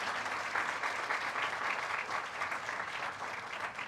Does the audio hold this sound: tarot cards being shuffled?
no